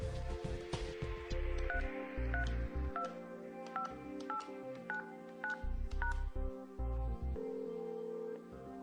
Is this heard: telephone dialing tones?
yes